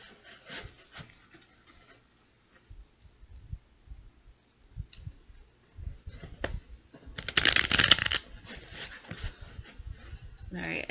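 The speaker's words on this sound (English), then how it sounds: "we're going to do 3 more shuffles" Tarot cards are shuffled by hand in short, irregular bursts of soft rustling, rubbing and light clicks, with a louder, denser riffle near the end.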